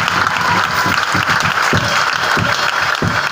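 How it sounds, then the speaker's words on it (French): Church congregation at a Christmas seminar applauding and acclaiming, a loud, dense, continuous wash of clapping with rhythmic pulses, close and steady throughout. "Il faut l'acclamer."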